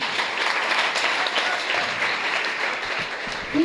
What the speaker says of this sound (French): Il faut l'applaudir très très fort.